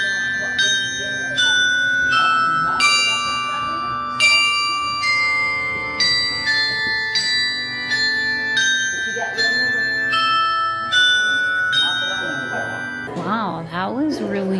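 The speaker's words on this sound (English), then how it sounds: "There's a whole like bell concert going on down here." A bell concert rings out in the lobby of a Christmas-themed hotel in Pigeon Forge: a steady melody of clear, ringing bell notes with long sustains, ending with a voice near the close.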